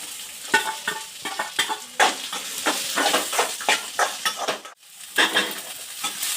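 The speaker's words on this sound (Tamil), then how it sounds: "வெங்காயம் இதில் போட்டுக்கலாம்." Onions sizzle in hot oil with cumin and pepper while a spoon scrapes and stirs the pan for a goat head curry. Rhythmic metallic strokes cut through the close, steady frying, with a short pause near the end.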